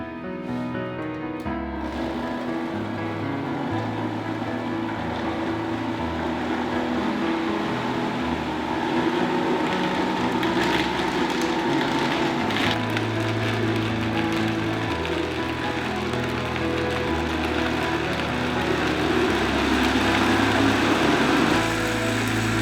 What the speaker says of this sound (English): Blend all the ice cream ingredients on high until everything is nice and smooth.